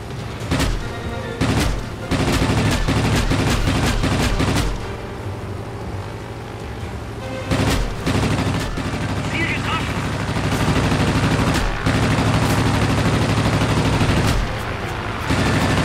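Rapid bursts of aircraft machine gun fire in the World of Warplanes air combat game, loud and close, with several long rattling volleys over a continuous engine drone.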